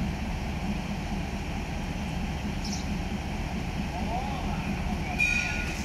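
Express train No. 76, running from Nong Khai to Bangkok, pulls out of Udon Thani railway station in Thailand. A steady, loud rumble of wheels and carriages fills the scene, with faint voices and a brief high tone near the end.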